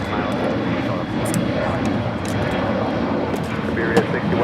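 A jet airliner takes off from runway 25 right at LAX, its engines giving a broad, steady roar at moderate distance, with talk mixed in.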